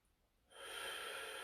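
One deep breath drawn during a stretching routine starts softly, then turns into a steady, close, airy rush that holds to the end, with no talking.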